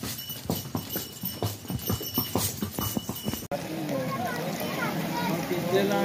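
A horse's hooves clip-clop down a mountain path on the pilgrimage route to the Vaishno Devi temple in Kashmir, in close, brisk, regular steps under a voice, then cut off abruptly to a steady, muffled ambient rumble.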